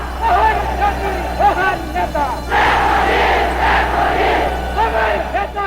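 A crowd of protesters erupting in demonstration: many voices shouting and chanting together in a loud, continuous din, with individual yells rising out of the babble.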